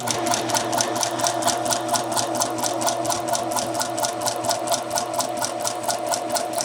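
A sewing machine stitches through skirt fabric and a dart, its needle pulsing in a fast, even rhythm for the whole stretch, close and fairly loud, with no one talking.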